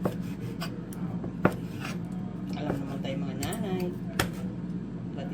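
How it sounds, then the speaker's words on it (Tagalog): Knife slicing through cooked pork belly on a board, with soft rubbing and a few sharp taps of the blade, steady and close, over a faint room background. "Tapos, ito hinihiwa ko."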